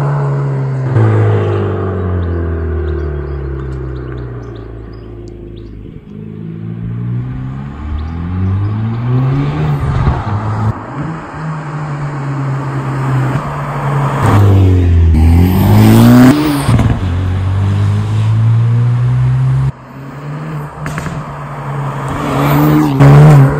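A 2019 Hyundai i30N engine revs hard and loud up close, its pitch sweeping up and down through repeated accelerations, with sharp exhaust pops and crackles bursting out mid-run.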